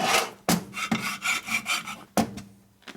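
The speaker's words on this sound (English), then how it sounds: "That way you can rub it against the case and see the high spots here and there." A metal file rasps against the engine case of a Harley shovelhead motorcycle during a rebuild, making a series of close, gritty back-and-forth strokes with brief pauses between them.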